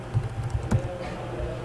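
Keys clatter on a computer keyboard as a name is entered into a form field, a short burst of close, irregular taps with a few sharper strokes.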